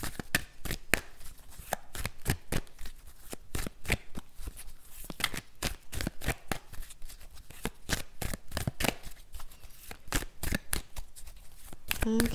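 Tarot cards shuffled by hand, a fast run of crisp riffling slaps and snaps repeating steadily throughout, close and fairly quiet, with no talk.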